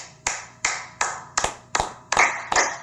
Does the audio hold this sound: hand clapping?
yes